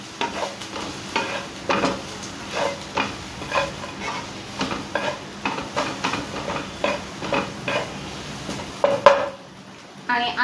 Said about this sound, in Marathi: आणि आता हे सर्व मिक्स करून घेऊया।